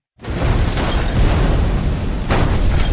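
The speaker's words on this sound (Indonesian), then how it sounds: "Melihat satu mobil anak buahnya meledak, Antonio langsung paham" A sudden loud explosion of a car in an action film bursts in, followed by a sustained roaring rumble and a second blast-like surge, deep and powerful.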